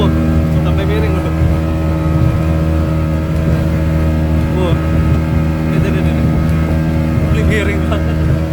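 A speedboat crossing open sea in big afternoon waves between Penajam and Balikpapan, its engine a steady loud drone with wind and water rushing throughout, and people talking over the noise.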